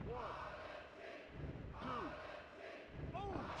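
A wrestling crowd chanting a name in the WWF Attitude PlayStation game, a repeating, rhythmic chant of massed voices that swells and fades in waves at moderate distance, with no commentary over it.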